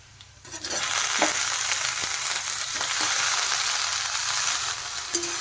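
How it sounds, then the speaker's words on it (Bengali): Cut taro stolons dropped into a pan of fried onions burst into loud, steady sizzling, with a few sharp clinks of a utensil against the pan as the hissing settles into a continuous bright crackle. "এখন আমি কেটে রাখা লতিগুলো দিয়ে দিচ্ছি।"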